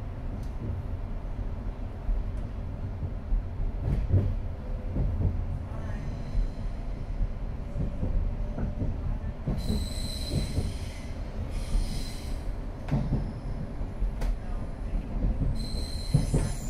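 Thameslink Class 700 electric multiple unit train running on the line through Redhill, Gatwick Airport and Three Bridges toward Horsham, with steady rolling rumble, wheel rattles and bursts of high-pitched wheel squeal, heard up close and fairly loud.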